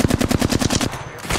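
Rapid automatic gunfire in Apex Legends, likely a Flatline rifle, a loud close burst of about a dozen evenly spaced shots that stops abruptly, followed by a brief trailing report.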